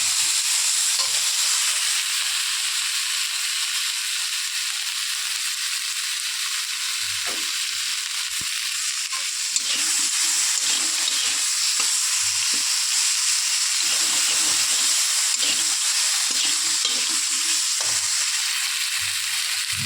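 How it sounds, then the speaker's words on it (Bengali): Ginger paste, with green chilli paste, frying in a pan for a raw banana and koi fish curry gives a steady, close hiss and sizzle with light stirring scrapes throughout, no talking. "আর হাফ চামচ আদা বাটা আমি দিয়ে দেবো। দিয়ে একটু কষিয়ে নেব।"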